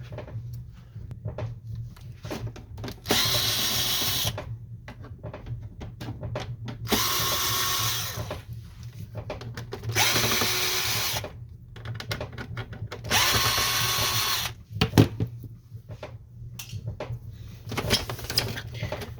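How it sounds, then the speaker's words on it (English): Power drill unscrewing the side-panel screws of a Canon Pixma MG5320 printer during disassembly, four loud whirring bursts of about a second each, separated by brief pauses, close to the mic. "we're going to need to unscrew these 4 screws right here."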